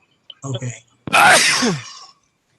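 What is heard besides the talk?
sneeze during a meeting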